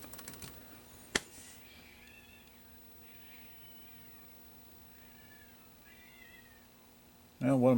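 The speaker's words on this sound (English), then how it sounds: "one of my cats sounds like it's in a fight outside." Cats fight outside in a series of drawn-out yowls and wavering meows, somewhat distant. A single sharp click comes early, and a person starts talking at the very end.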